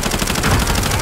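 Sustained automatic gunfire in Call of Duty: Modern Warfare, a loud, dense rattle of rapid shots with no break across the whole second.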